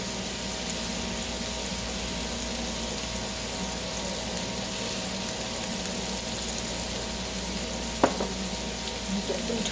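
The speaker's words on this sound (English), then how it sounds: "We're going to brown them on each side" Steady close sizzling of meat browning in a frying pan, a constant crackling hiss throughout with one sharp clack near the end, no talk.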